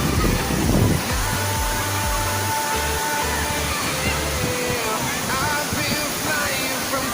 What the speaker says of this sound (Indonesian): ayo dicobain air terjun Sadap